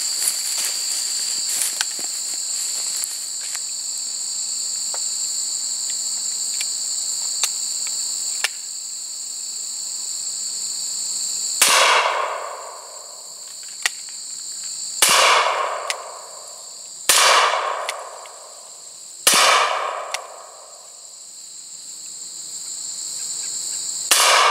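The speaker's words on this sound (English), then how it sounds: "So as I said, we're shooting 45 Colt right now." Four sharp, loud reports from a Rossi Circuit Judge revolver firing .45 Colt rounds, irregularly spaced, each with a ringing decay, over a steady outdoor chorus of crickets.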